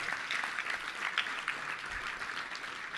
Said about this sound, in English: Let's give a round of applause to 4 of our outstanding businesses